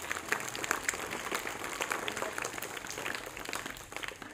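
Applause from an audience at a comedy stage show, steady dense clapping that holds for several seconds, heard from a moderate distance and fairly soft.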